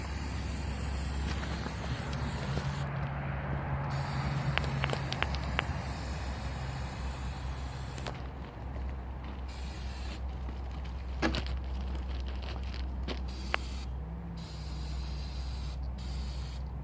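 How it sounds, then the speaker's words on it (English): A long, steady hiss of water spraying bubbling stripper off a go-kart frame continues throughout at a moderate distance, with occasional brief clicks and gaps in the flow. "Oh, you're just spraying it off."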